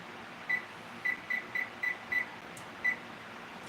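A kitchen timer being set while baking oatmeal pumpkin cookies gives a series of short, high electronic beeps, seven in an uneven run, clear and close over a low room hum.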